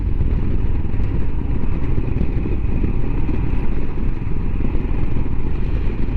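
Royal Enfield Himalayan motorcycle engine running steadily on a ride after a storm, a continuous low rumble with constant loudness throughout, mixed with road and wind noise and no voices.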